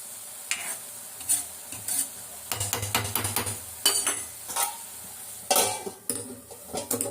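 Cabbage and carrot poriyal stir-fries in a pan, a soft sizzle broken by repeated loud metal spatula scrapes and knocks against the pan in an uneven rhythm, close by with no voices.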